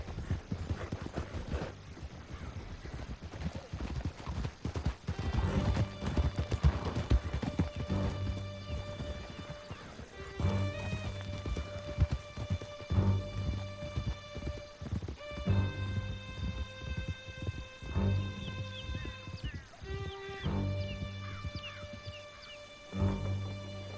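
Horses gallop hard in a video game, a dense, rapid clatter of hooves with occasional whinnies, all set against a sustained musical score.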